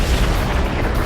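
A supernova explosion rendered as a deep, continuous rumbling boom, loud and dense with low-end roar filling the whole short stretch, no voices present.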